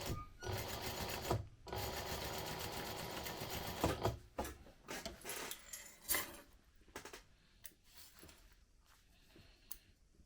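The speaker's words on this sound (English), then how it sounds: "you're going to top stitch at 1/8 of an inch" Sewing machine top stitching a crossbody bag, a close, quiet rapid mechanical stitching that runs in bursts separated by brief pauses, with clicks and handling noises as the fabric is shifted, and no talking.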